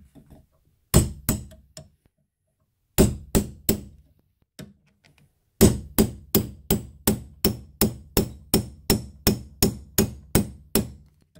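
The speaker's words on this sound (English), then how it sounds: "you want all the force from your hammer to actually go into the copper tube" Sharp metallic hammer blows ring out, driving a swage tool into copper tubing, first in short groups of three or four, then a long steady run of evenly spaced strikes.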